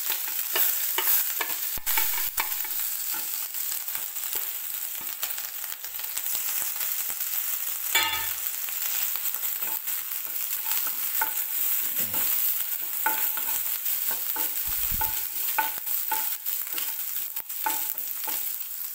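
Grated coconut fries in the oil left from frying pappadam, a steady sizzle crackling under repeated scraping stir strokes, close and fairly loud throughout with no voices.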